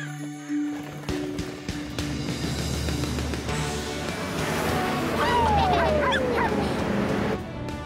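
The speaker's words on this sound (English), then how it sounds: "Pups bark with dinosaurs." Cartoon puppies from a kids' animated show barking and yipping in quick repeated bursts over background music, with a whimpering rise and fall near the end.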